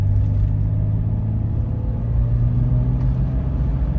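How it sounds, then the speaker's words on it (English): A 2004 Jeep WJ with a newly replaced muffler revs steadily, a loud, continuous low engine rumble with a deep exhaust note held at near-constant level throughout. "I'm gonna rev it and see if you guys can hear it."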